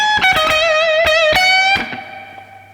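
An electric guitar plays a blues lick with wavering string bends and vibrato, loud and close, with several picked attacks before the last note fades.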